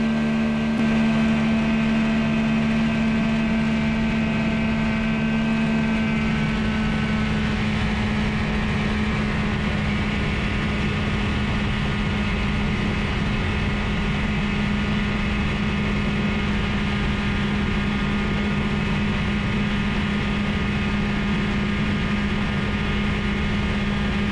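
A Rotax 447 two-stroke engine on a Quicksilver MX Sport ultralight runs loud and steady with a constant droning hum for the whole stretch. No one speaks over it.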